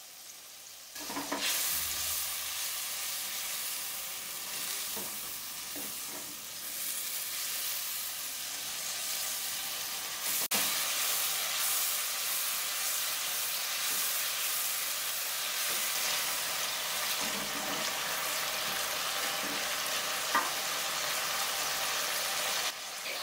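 Spice paste of cumin, ginger paste, salt, Kashmiri red chilli and turmeric frying in oil for a paneer curry, a steady close sizzle with intermittent scraping stirs throughout.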